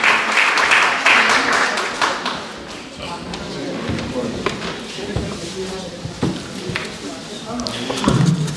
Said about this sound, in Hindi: आपकी भरपूर तालियों में सैयद अली रज़ा।